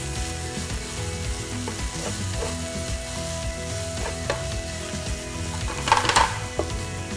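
Ginger and garlic stirred and frying in a pan for beef with broccoli, giving a continuous close sizzle with scraping and clicking stirs, and a sharper rattle near the end.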